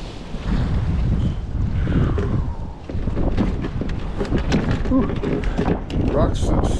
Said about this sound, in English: It looks windy too.